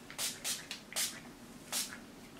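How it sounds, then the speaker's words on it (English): Silk Elements Mega Silk olive oil heat protectant sprayed onto hair, four short hissing bursts from a pump bottle in an uneven rhythm, close and fairly quiet. "Silk Elements Mega Silk Heat Protectant. It's the olive oil one. Spray that on."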